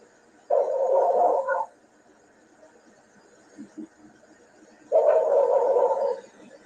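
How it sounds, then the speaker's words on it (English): Murphy the dog gives two bursts of barking a few seconds apart, each lasting about a second, fairly close and distinct against a quiet background with a few faint knocks between them. "See, Murphy's barking."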